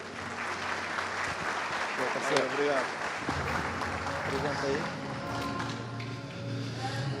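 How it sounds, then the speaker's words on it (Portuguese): An audience at a Google Shopping e-commerce talk applauds speaker Lucas, a steady wash of clapping that holds loud for several seconds before thinning, with some voices mixed in. "Uma salva de palmas para o Lucas."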